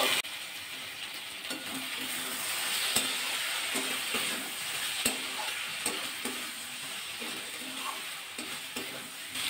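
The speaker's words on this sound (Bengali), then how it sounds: "আবার ঢাকাটা খুলে নেবো, নিয়ে আবার নাড়াচাড়া করে নেবো।" Okra and potato curry stirred in an uncovered pan after steaming under a lid, a continuous moist sizzle with repeated scraping and clinking of the spoon against the pan, close and without talk.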